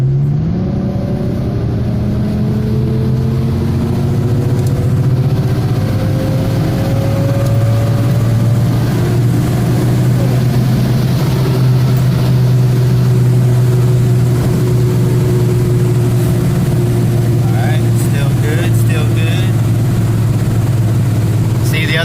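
An Infiniti G35X, which has a camshaft position sensor fault on bank 1, revs up as it accelerates. The engine drone stays steady and prominent throughout, and its pitch climbs gradually.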